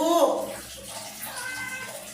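Water splashes and sloshes in a child's bath, with soft, close splashing under a person talking gently throughout.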